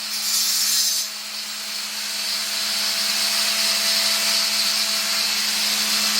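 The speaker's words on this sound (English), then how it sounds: "let's listen to the grinder" A grinder runs steadily on the rocker panel of a 1966 Chevy truck, a continuous loud whine with a hissing edge that eases slightly after the first second and then holds for the rest of the clip.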